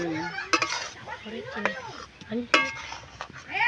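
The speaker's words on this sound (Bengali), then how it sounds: "এবারে নারকেল তুলে দিচ্ছি, দিয়ে নেড়ে নেবো" A spoon scrapes and clinks against a pot while grated coconut is stirred into milk with sugar candy. The sound comes in short irregular strokes, close and moderately loud, with faint sizzling beneath.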